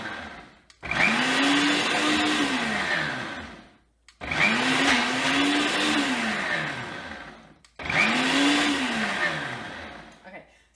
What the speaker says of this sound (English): I'll put it on pulse for a little bit and let it pulse up those